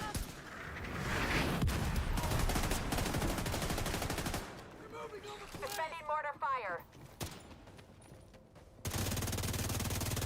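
Pistol gunfire from a video game rings out as rapid loud shots over a noisy first half, then thins into sparser effects with a voice talking over it.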